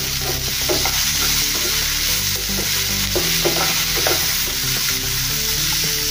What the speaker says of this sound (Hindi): इसको भी अच्छे से मिक्स कर लेंगे।